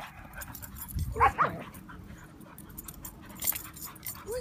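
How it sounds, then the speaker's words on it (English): A puppy gives a brief yip and whimper, then a quieter outdoor background with soft rustling. "Who's barking?"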